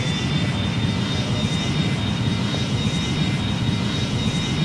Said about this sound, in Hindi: हम लोग यहाँ से फुल थ्रॉटल देके फ्लाइट को टेक ऑफ करेंगे।